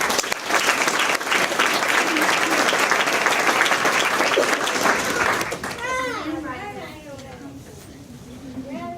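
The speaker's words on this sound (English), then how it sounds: "Please give a round of applause to honor Mr." A school audience applauds to honor a teacher at an in-school award event, loud dense clapping for about six seconds, then fading as children's voices chatter and call out over the thinning claps.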